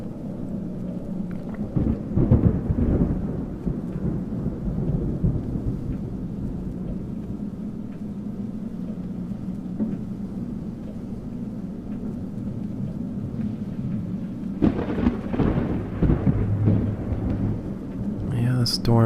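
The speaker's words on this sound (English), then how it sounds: "Yeah, the storm he was talking about." Thunderstorm in the video game Darkness Within, heard inside a cabin at night: steady rain hiss under low rolling thunder, with a louder rumble early on and another swelling near the end.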